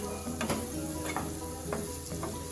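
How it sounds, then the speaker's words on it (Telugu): Onions fry in a pan for mushroom masala with a steady dense sizzle, while light spoon scrapes and taps against the pan come through every half second or so, close by. "ఇప్పుడు ఈ ఆనియన్స్ని గోల్డెన్ బ్రౌన్ కలర్ వచ్చేంత వరకు ఫ్రై చేసుకోవాలి."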